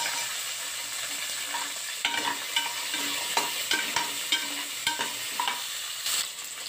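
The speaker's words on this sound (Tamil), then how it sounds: "இப்போ நம்ம வெங்காயத்தையும் பச்சை மிளகாயையும் ஆட் பண்ணிக்கலாம்." Onions and green chillies fry in a pan for brinjal sambar, a steady close sizzle with intermittent sharp scrapes and knocks of a stirring spoon, no voices.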